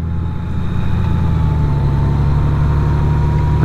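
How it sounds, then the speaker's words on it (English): Honda Goldwing motorcycle engine pulling away with two riders aboard, a deep, steady low drone with a rising tone as it gathers speed, heard up close throughout. "Love the noise this engine makes."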